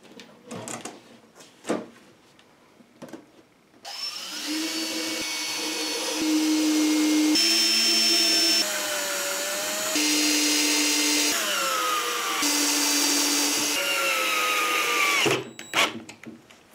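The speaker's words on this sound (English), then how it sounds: "I decided to mount it back in using pocket screws." Power drill drives pocket screws into a filing cabinet drawer, a sustained whirring run of several seconds with pitch shifting as it loads, bracketed by sharp knocks and handling clatter.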